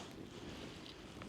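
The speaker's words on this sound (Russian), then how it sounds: "Ветер сильный." Strong wind blowing through a forest on a cold night, a steady broadband rushing roar with gusty buffeting against the microphone and no pauses.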